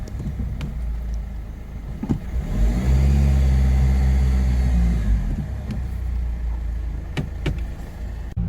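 A 1.6 diesel Opel Astra labors to pull away, its low engine rumble swelling into a heavy, strained drone for a few seconds before easing back, heard up close with a few sharp clicks around it.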